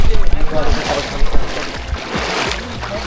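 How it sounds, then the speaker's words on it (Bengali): A vehicle crosses a shallow knee-deep river in the hills of Bandarban, with water splashing and sloshing close by and a voice speaking over the rushing spray. "আমাদের সুন্দর একটা নদী পার হচ্ছে"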